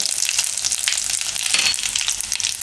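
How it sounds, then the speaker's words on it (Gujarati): Mustard seeds, cumin and sesame seeds frying in hot oil: a continuous close crackling sizzle with fast popping spatters throughout, fairly loud and with no voices. "તો આમાં આપણે નાખશું રાઈ થોડુંક જીરું"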